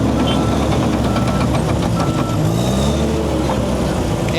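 A bulldozer engine roars loud and close, running steadily under load while flattening a stockpile, with a continuous heavy rumble and clanking track noise throughout.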